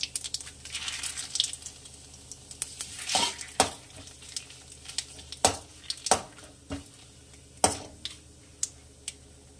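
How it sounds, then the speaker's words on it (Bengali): Cumin, dried chillies and bay leaf go into hot mustard oil, a soft sizzle beneath several sharp pan knocks and stirring scrapes spaced a second or two apart, close and alone. "তেল গরম হয়ে গেছে, দিয়ে দিচ্ছি 1/4 টিএসপি, একটু আস্ত জিরে, 2টো শুকনো লঙ্কা আর তেজপাতা"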